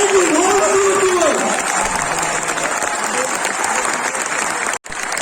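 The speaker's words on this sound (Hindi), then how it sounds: "एक बार जोरदार तालियां हमारे सारे न्यू अचीवर्स के लिए" An audience at an award function applauds new achievers, loud sustained clapping from a large crowd that runs throughout, with a faint sung tone fading early on and a brief dropout near the end.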